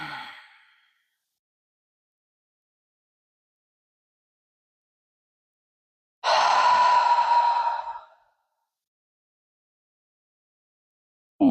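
Deep breaths during a gentle beginner yoga stretch: a soft exhale fades at the start, then after a long silence a loud close sighing exhale lasts nearly two seconds, and another breath begins at the end.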